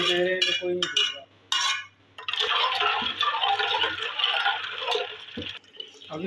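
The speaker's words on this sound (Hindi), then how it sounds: "अभी हम लोग ये पानी भर के इसको हम लोग ऐड करेंगे बर्तन के अंदर" Water is poured into a kitchen vessel while making lemon water, a steady gurgling rush of liquid lasting several seconds after a few clinks of utensils, close and fairly loud.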